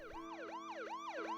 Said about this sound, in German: Sirenen erklangen.